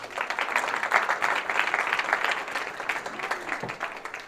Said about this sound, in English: Clap for dentistry